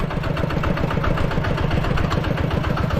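A vehicle engine running while driving, a loud, steady, throbbing mid-to-low drone with rapid pulsing, close and continuous, with no clear gear change and no talking.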